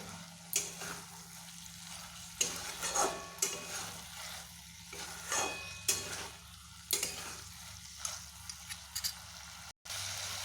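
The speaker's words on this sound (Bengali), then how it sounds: "এবার আমি এগুলোকে একটু ভালোভাবে কষিয়ে নেব এইভাবে" Ridge gourd with potatoes stir-fried in a pan on low flame: a soft sizzle beneath repeated spatula scrapes and clacks in uneven bursts, close and fairly quiet, with no talking.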